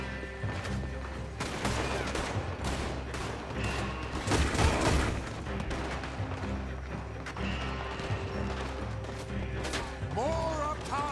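Gunfire in a Red Dead Redemption 2 shootout in Chapter 6, with loud rapid bursts and crashes over a busy game soundscape, and a player talking over the action.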